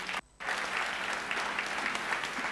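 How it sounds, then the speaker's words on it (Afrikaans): Audience applause at a church sermon, a dense, steady clapping that breaks off for a moment near the start and then carries on at full strength to the end. "geef hulle lekker hande klap toe."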